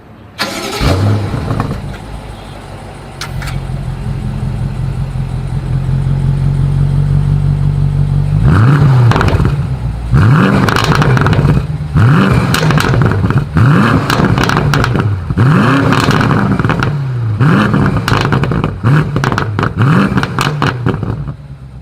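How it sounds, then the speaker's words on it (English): A BMW M850i Gran Coupe engine rumbles at idle in sport mode and then revs repeatedly, with sharp crackles and pops from the exhaust between each rev. "you guys will hear all of the wonderful crackle that comes with the M850i"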